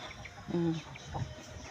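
A single brief chicken cluck against quiet outdoor background, with a faint second call shortly after.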